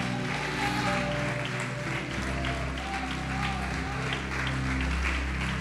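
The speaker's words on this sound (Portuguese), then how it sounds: "Pode aplaudir, glorificá-lo." Church congregation applauding during worship, a sustained spread of many clapping hands over a low held musical drone, somewhat distant and moderately loud.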